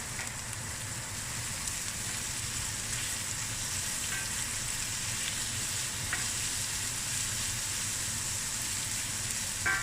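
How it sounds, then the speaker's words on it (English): Chopped garlic fries in a pan over medium heat with a steady, dense sizzle and crackle that holds unbroken throughout, close and even, with no voices. "now I'm going to add some garlic. Tablespoon of chopped garlic."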